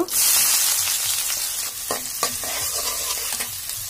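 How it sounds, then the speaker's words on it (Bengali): Bay leaf, cardamom, black pepper, cloves, cinnamon and chopped onion fry in hot oil with a loud, dense sizzle that settles into a steady hiss, broken by a few scraping stirs of a spoon nearby. "তেলের মধ্যে আমি তেজপাতা, এলাচ, গোলমরিচ আর 2টা লবঙ্গ দিছি, আর দারচিনি, আর কিছু পেঁয়াজ কুচি দিব।"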